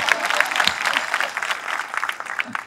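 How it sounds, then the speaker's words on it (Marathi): Audience at a live talk event clapping continuously, a dense crowd applause that stays fairly even and tapers slightly toward the end. "माझ्यापर्यंत आता जास्ती टाळ्या वाजव"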